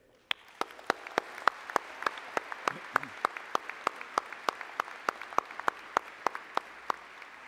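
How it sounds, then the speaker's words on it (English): Applause from the audience at a college convocation for health and human services graduates, with a broad wash of clapping and sharp, evenly spaced individual claps standing out steadily throughout. "let's all come together for a round of applause to celebrate all those who have helped our"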